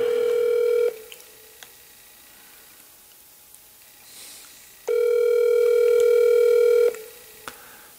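Telephone ringback tone on an outgoing call waiting for an answer, two long steady electronic rings separated by a quiet gap, clear and close with faint rustling.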